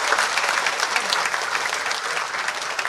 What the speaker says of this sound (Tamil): நல்ல கைத்தட்டு கொடுங்க அவருக்கு